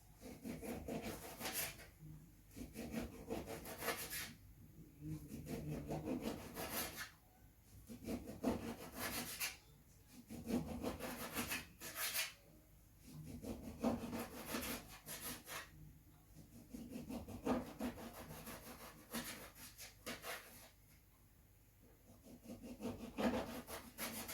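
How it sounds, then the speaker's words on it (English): A knife slices a fresh lemon on a board, producing repeated rasping, sawing strokes in a regular rhythm with short pauses, fairly close and quiet, with no voices. "Then I'm going to cut up a fresh lemon. So I'm going to cut it into slices."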